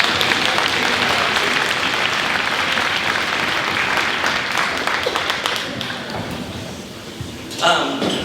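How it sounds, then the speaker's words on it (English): An audience at a middle school concert claps in sustained, dense applause that gradually thins and tapers off toward the end. "Let's give them a round of applause"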